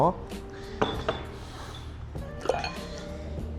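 Dishes knock and clink sharply as plates are set into the rack of a Richborn S9 Ultra dishwasher, several distinct close impacts spaced over a few seconds, with a voice speaking between them.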